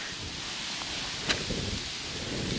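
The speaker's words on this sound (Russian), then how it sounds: "Ветер холодный." Steady cold late-autumn wind blows outdoors while fishing as a continuous broadband rush, with faint rustling and a brief soft knock midway.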